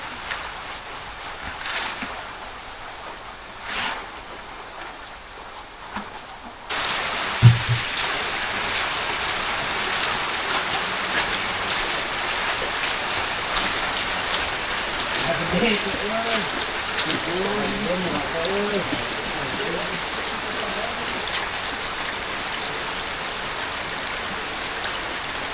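Steady rain falls at night in Cianjur, a soft hiss that gets much louder and denser partway through and then holds as a constant wash, with faint background voices.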